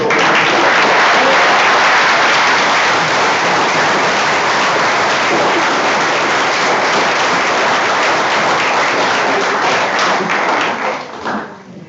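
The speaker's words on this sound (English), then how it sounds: "I'd like to clap for the two able conference" A church congregation claps together in loud, sustained applause filling the hall, holding steady for about eleven seconds before thinning out toward the end.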